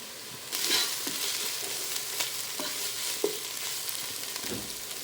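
Oil crackles and sizzles steadily in a pan, with a sharp burst as leaves hit the hot oil and a few stirring clinks.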